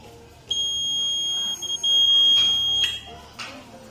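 Buzzer of an automatic flood detector sounding a continuous high-pitched electronic tone for a few seconds, loud and steady over low background noise before cutting off.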